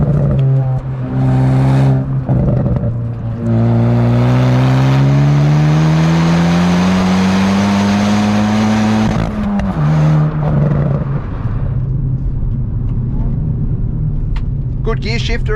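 A 2022 Hyundai i20 N engine and exhaust rise in pitch under acceleration while driving, a loud sustained drone climbing through the gear, then dropping briefly at a shift before pulling again.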